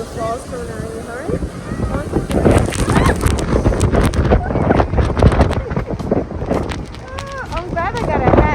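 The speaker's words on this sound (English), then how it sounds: "It's windy because the fall's coming out really hard." Strong wind at a powerful waterfall in Iceland, gusting roar buffeting the microphone with heavy rushing water beneath, while people talk and call out over it.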